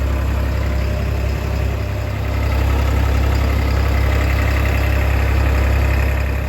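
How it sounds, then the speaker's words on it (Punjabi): A 4x4 tractor engine runs steadily during a test-drive demo, a loud, deep, continuous diesel rumble that dips slightly around two seconds then holds even, with no talk. "ਡੈਮੋ ਲੈ ਰਹੀ ਆ ਜਿਹੜਾ ਕੱਢ ਰਹੇ ਆ ਟਰੈਕਟਰ ਤੇ"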